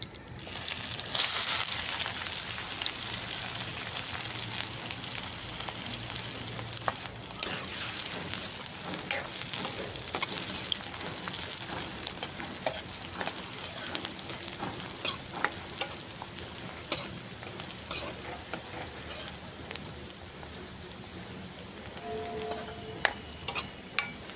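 Onions frying in oil with a curry leaf tempering for dahi tikhari, a continuous close sizzle with scraping stirs and crackles throughout, fading slightly toward the end.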